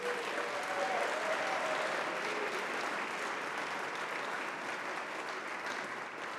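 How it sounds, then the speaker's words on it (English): Steady, dense applause from an event audience honoring several honorees over 70, sustained and fairly even throughout with no talk. "Let's give them all a round of applause."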